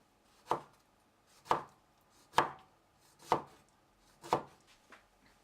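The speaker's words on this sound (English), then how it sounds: "Then chop the rest of the sauteed mustard into small pieces." Five evenly spaced knife chops through salted mustard greens on a cutting board, about one per second, crisp and close with quiet between them.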